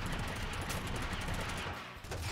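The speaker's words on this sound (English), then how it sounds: "I shot him so many times" Rapid, dense gunfire from the video game Totally Accurate Battlegrounds fills the moment as a loud, continuous burst of overlapping shots with no pause and no speech.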